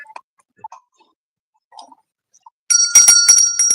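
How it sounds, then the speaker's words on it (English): A livestream notification chime rings out loud and bright after a few faint ticks and clicks, a sustained metallic bell-like tone lasting about a second. "We get a bell for Selma."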